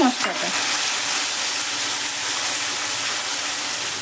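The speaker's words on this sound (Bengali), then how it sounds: "মশলাটা দিয়ে ভালো করে তেলের সঙ্গে মিশিয়ে নিচ্ছি।" Fresh coriander paste hitting hot oil already holding ginger and cumin paste for murgh dhaniya: a sharp burst of spatter at the start settling into a loud, steady close sizzle, no voices.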